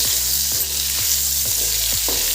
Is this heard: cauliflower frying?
yes